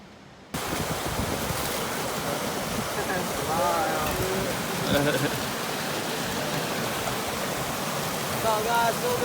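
Devils Gulch waterfall pours in a loud, steady broadband rush that starts abruptly and continues unbroken, close by, with a few faint bird-like chirps above the roar.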